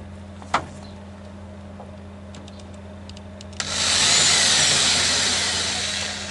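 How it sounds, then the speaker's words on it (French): An electric power drill whirs up against a Citroën Traction 11B car door to mark a hole spot, starting after a sharp click and quiet pause and running steadily and fairly close. "avec la perceuse, je vais marquer l'endroit où je dois percer"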